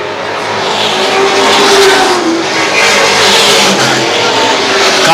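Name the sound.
late model race cars racing down the back straight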